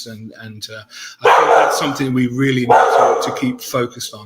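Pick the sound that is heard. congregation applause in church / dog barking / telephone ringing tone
dog barking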